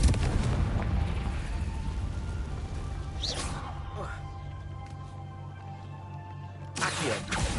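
In Hogwarts Legacy, the Confringo blasting spell goes off in booming explosive bursts, a rumbling low roar with sharp whooshes cracking through it and a final blast near the end.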